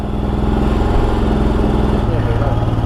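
A motorcycle engine idles and chugs steadily up close as it warms up in the cold at Zojila Pass in Kashmir, a loud, continuous rhythmic thrum.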